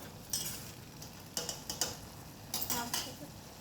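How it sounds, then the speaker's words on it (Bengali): A lid is lifted off a cooking pot of yardlong beans, with a few close metallic clinks and scraping clatters in short clusters over a soft steady background hiss. "ঢাকনাটা খুলে দিচ্ছি"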